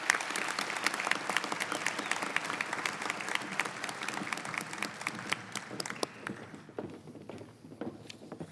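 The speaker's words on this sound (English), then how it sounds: "Let's give all these scholarship recipients another round of applause." Sustained applause from a crowd at a sports hall of fame ceremony, steady dense clapping that continues for several seconds before thinning out near the end.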